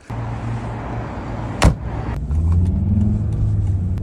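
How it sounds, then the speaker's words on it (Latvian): A Volvo car engine pulls under hard acceleration, a loud close droning hum that thuds once and then rises into a stronger, steady revving tone. "Spiežu grīdā, iet ļoti labi. Motora skaņa arī forša."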